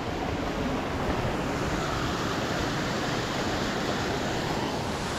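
A waterfall pours into a pool near Orange, New South Wales, a loud, steady rushing roar that stays constant throughout with no voices.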